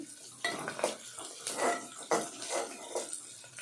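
Onions frying in a pan while being stirred, a soft continuous sizzle broken by repeated scraping and clinking of a utensil against metal at an uneven rhythm, close but fairly quiet.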